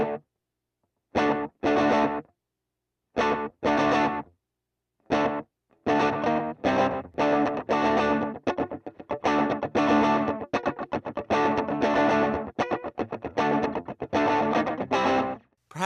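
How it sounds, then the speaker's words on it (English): Electric guitar played through a simulated Tweed Deluxe amp into a Superstar 2x12 cabinet model on a Hotone Ampero Mini: a few opening chord hits, then a busy, continuous run of strummed and picked lines, driven and fairly loud, no talking. "Tweed Lux, going into a Superstar 2x12 cabinet simulator."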